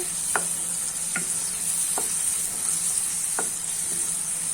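Masala spices sautéing in oil for a boiled egg curry, a continuous bright sizzle with a few sharp spoon taps against the pan at irregular intervals, close and alone.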